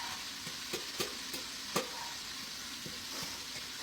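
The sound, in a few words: onions sizzling in a frying pan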